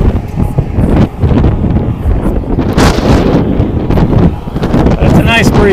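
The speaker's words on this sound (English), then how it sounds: "We got a nice headwind coming at us." Headwind buffets a cyclist riding at about 16 miles an hour on a warm day, a constant loud rushing roar over the microphone, with a voice speaking beneath the gusts.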